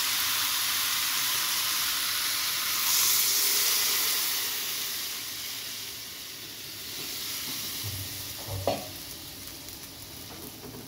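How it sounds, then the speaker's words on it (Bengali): Water hits frying curry to make gravy for a dish with potato and soybean, setting off a continuous sizzle and steamy hiss that swells briefly, then settles. A couple of faint knocks sound near the end, with no talking. "এখন আমি গ্রেভির জন্য জলের জন্য জল দিয়ে দেবো"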